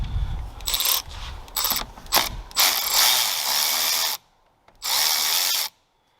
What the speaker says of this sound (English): Now we can loosen up the power to the distribution block here.